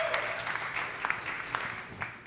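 Brief, fairly faint applause from a small audience at a stand-up comedy show, scattered claps under room noise.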